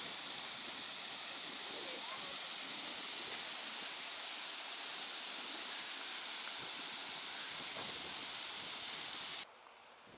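A waterfall beside a mountain road in Peru, heard as a steady, dense, fairly faint rush of falling water that runs unbroken and then drops away abruptly near the end.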